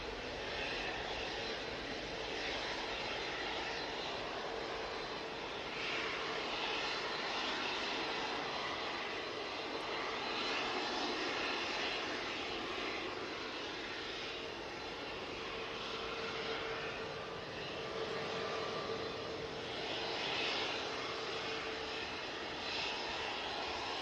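Ryanair airliner jet engines at Manchester Airport, a steady, loud, broadband roar that holds for the whole stretch with slight swells and no voices.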